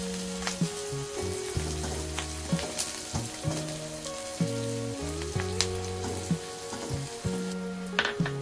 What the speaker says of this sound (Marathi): कढीपत्त्याची पानं टाकून घ्यायची